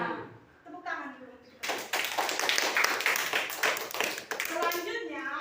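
A classroom of students clapping hands together in a dense, steady round of applause after a teacher speaks, close and fairly loud, with children's voices mixed in.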